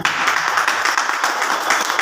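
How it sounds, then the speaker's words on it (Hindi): An audience at a marketing-plan seminar breaks into dense, continuous applause, a steady wash of many hands clapping at moderate loudness. "वेरी गुड, एक बार तालियां।"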